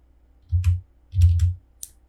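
Keystrokes on a computer keyboard: a few sharp, close clicks in two short bursts, with no voice over them.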